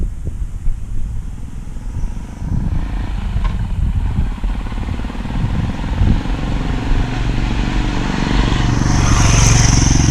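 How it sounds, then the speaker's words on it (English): A camera drone flies overhead outdoors during a video shoot at Ashdown House, its propeller buzz mixed with loud broadband rumble and wind that swell toward the end, with a thin high whine emerging late. "I got my drone up there as well coming down"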